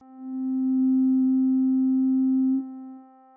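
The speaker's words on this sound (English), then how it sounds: "So if I play a note with a sine wave" A single pure, smooth synthesizer tone with a sine wave, held steadily for about two and a half seconds before fading out.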